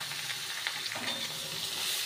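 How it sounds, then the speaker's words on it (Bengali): Carrots frying in hot ghee with cardamom, a brief close, steady sizzling hiss with faint stirring. "গাজরটাকে ঘি দিয়ে ফ্রাই করে নিতে হবে ভালো করে।"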